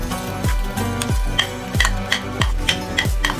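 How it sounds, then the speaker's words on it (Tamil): Cooked adai rice flakes are stirred through melted ghee in a pan for ada pradhaman, a spoon scraping in regular repeated strokes with a soft sizzle underneath. "ஒரு 2 நிமிஷம் இந்த நெய்யில் நல்லா கலந்து விட்டுறலாங்க"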